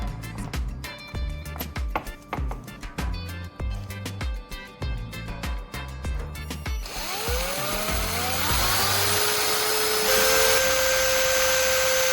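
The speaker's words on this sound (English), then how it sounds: "The next step is to drill a hole so that I can pass the wire through the base." A power drill bores a hole through a base to pass a wire through, its steady whine rising and holding loud after a stretch of rhythmic mechanical knocking.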